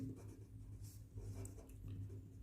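A pen scratches across paper in a math exercise on square roots, a soft continuous scribbling close by over a low steady hum, with no talking.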